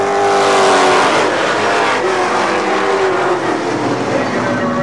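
Late model race cars roaring around a dirt oval track, loud engines passing close one after another in a continuous nose-to-tail pack, with shifting engine pitch as they go by.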